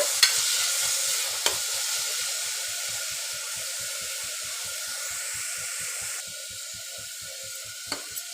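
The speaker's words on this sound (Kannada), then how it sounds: "ಹಾಕಿ ಇದನ್ನು ಸ್ವಲ್ಪ ಫ್ರೈ ಮಾಡ್ಕೊಳ್ಳೋಣ" Coriander and mint leaves fried in a pan for a mutton dish, a steady soft sizzle with hissing and light stirring, faint and continuous with a couple of small clinks.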